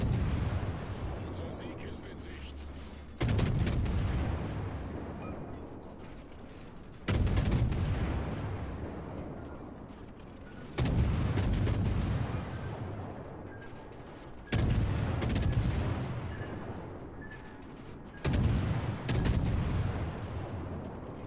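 Shell salvos from a German Z52 tier 10 destroyer in the World of Warships video game, five heavy booming volleys spaced a few seconds apart, each loud at onset and decaying into a rumbling tail.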